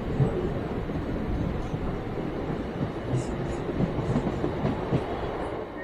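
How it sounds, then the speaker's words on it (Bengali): A local train running from Kolkata toward Digha rumbles steadily from inside the carriage, with a continuous low roar and faint wheel clatter. Muffled voices sit under the noise throughout. "চলো ট্রেন ছেড়ে দিয়েছে, উঠে পড়ি। আপনারা যদি চান এই ট্রেন ছেড়ে দিল"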